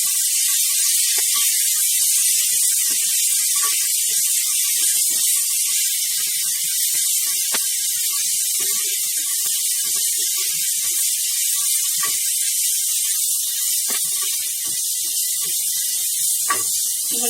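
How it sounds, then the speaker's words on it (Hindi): Onions and tomatoes fry in hot oil for a dried white peas dish, giving a steady, loud hiss of sizzling that runs without a break, with a few faint clicks and stirring taps. "टमाटर डाल देते हैं, तो हल्का इनको सॉफ्ट होने तक भूनेंगे"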